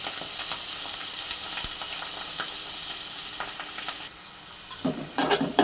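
Finely chopped garlic, green chili and ginger sizzle in hot oil in a pan, a steady close crackle broken by sharp clinks and scrapes of a spoon stirring toward the end.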